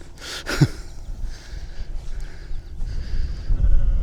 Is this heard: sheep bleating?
yes